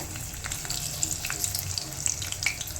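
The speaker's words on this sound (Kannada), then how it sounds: "ಈಗ ಸ್ವಲ್ಪ ಆಯಿಲ್ ಹಾಕ್ಕೊಳ್ತಾ ಇದ್ದೀನಿ ಈಗ ಈಗ ಈರುಳ್ಳಿ ಹಾಕ್ಕೊಳ್ತೀನಿ ಹುರ್ಕೊಳ್ಳೋದಕ್ಕೆ" Onions fry in oil in a pan with a continuous, close crackling sizzle and scattered bright pops throughout.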